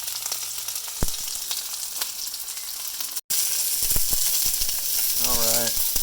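Vegetables stir-frying in a hot pan, a steady loud sizzle with a few sharp clacks of a utensil and a brief dropout midway.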